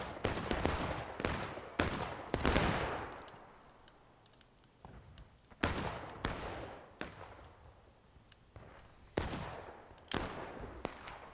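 Musket volleys in the Civil War battle game War of Rights, sharp loud cracks fired in irregular bursts and clusters, some close and heavy, others echoing with long decaying rumbles between shots.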